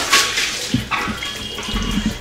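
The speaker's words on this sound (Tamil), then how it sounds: "இப்போ நல்ல தண்ணியில் கழுவிக்கலாம்." Brass and copper vessels rinsed with water after scrubbing, close splashing and pouring with irregular sloshes and metallic knocks, fairly loud and with no talk.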